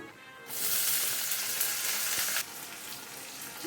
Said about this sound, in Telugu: నూనెలో ఇలాగ పండు మిరపకాయలు వేసుకుందాం